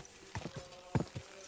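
A ridden horse's hooves clip-clop on the ground in Kingdom Come: Deliverance II, giving a few faint, quick, uneven hoofbeats.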